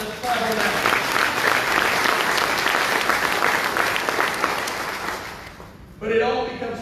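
An audience at the opening of a county career technical campus claps in a loud, dense round of applause that fades out after about six seconds, followed by a voice beginning to speak.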